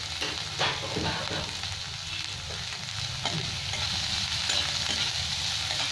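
Chopped onion and carrot sizzle in a pan, a steady close frying hiss broken by the scrape and clatter of stirring.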